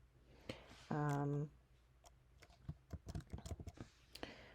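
Someone types on a computer keyboard while entering text in Cricut Design Space. Soft, scattered key clicks come through quietly, with one short electronic tone early on.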